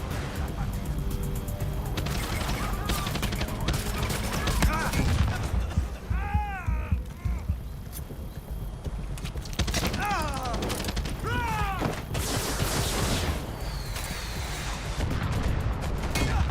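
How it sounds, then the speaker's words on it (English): Heavy machine gun fire in Far Cry 6, dense bursts of loud gunfire mixed with crashes and mechanical clatter, running nearly nonstop through a busy combat scene. "She knew her best bet was to get on the heavy machine gun."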